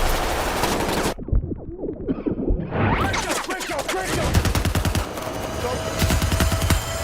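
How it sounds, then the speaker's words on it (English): Gunfire from the war film Warfare: loud, dense bursts of rapid shots and sharp cracks after a brief near-silent gap, building into a chaotic barrage with whooshes and impacts. "The gunfire snaps, the silences loom large"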